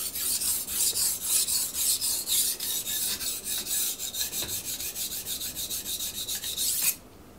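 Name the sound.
sharpening a blade on a Miyagoshi sharpening stone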